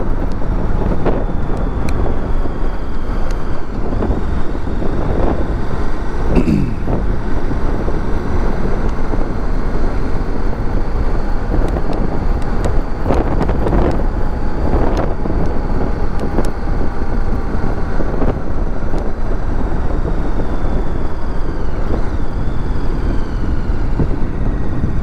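A KTM 1290 Super Adventure R motorcycle on a demo ride at Americade 2022 gives a continuous loud roar of rushing wind buffeting the microphone over a low engine rumble, with no speech.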